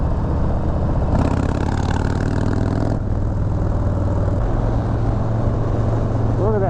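A 2020 Harley-Davidson Low Rider S runs under way, its engine a steady low drone with a throttle surge near the start, heard close over wind and road noise.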